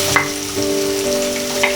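Onion and garlic sizzle steadily in hot oil in a pan for a green tomato chutney, a close, constant frying hiss with faint stirring scrapes and no voices.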